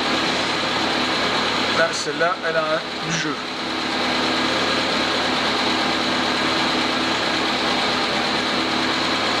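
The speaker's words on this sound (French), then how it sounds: "Bon alors moteur tournant" A Citroën CX engine idles steadily during restoration work in a garage, a constant mechanical hum with brief speech near the start.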